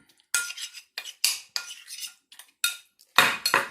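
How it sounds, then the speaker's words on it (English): A metal spoon mixes mashed potato with a splash of unsweetened almond milk in a bowl, giving a series of soft scraping, clinking strokes in irregular bursts, close and fairly quiet, with brief pauses between them. "It might be better to smash up that potato with a fork because I'm using a spoon right now"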